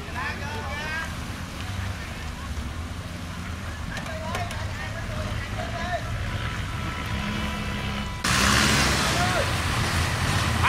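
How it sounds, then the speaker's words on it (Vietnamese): Motorboats run through an opened sluice gate with rushing water, a steady engine drone under wind and flowing water, growing louder near the end, with people talking over it. "Có một chiếc ghe chạy vô rồi, mấy cái ghe này quá trời chạy rồi"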